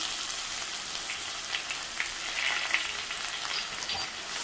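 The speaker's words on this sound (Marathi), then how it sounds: "इथे मी तेल गरम करून घेतलेले आहे। आता ह्यामध्ये कांदा घालते।" Onion fries in hot oil for egg bhurji, a dense, even, close sizzle with faint crackles and no talking.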